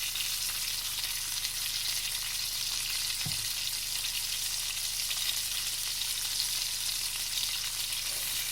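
Turkey wings browning in olive oil in a pot, a constant loud hiss and crackle of frying grease that stays even throughout, with a single brief low clunk midway and no talking.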